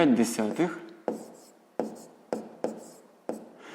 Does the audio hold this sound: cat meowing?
no